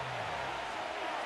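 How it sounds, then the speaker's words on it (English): A football stadium crowd in Madden NFL 25 sends up a steady, broad roar on third down, loud and continuous, with a commentator's voice over it. "This crowd into it now as we get to third down."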